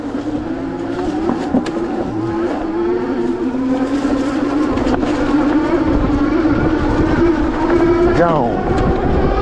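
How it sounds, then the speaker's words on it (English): A Birch Grolar heavy-duty hunting eBike running on throttle alone with no pedaling, giving a steady whining motor hum with rising and falling tones, while someone talks continuously over it. "I'm throttle on. I'm not pedaling right now at all."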